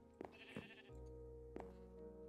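Sheep in the Minecraft video game bleat a few times in short bursts over a steady low game hum, moderately close and fairly quiet.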